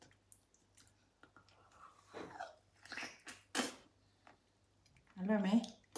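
Raw crab eaten, with wet chewing and a few sharp crunching bites spread through the clip, plus soft breathing and a brief low voiced sound near the end.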